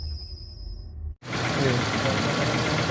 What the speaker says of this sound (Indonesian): Kemudian kita hidupkan mesin lagi sekitar 5-10 menit agar oli tersirkulasi dan membersihkan kerak-kerak di ruang mesin.